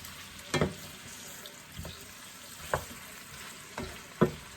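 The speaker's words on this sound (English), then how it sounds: "I'm just going to be giving them a good turn in that butter" Apple slices being turned in butter in a pan, a soft low sizzle broken by a few distinct scraping stirs and clinks spaced a second or so apart.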